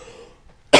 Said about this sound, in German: Ah, mein Husten, alter Verwalter.